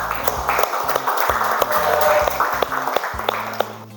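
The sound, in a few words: audience applause for group 1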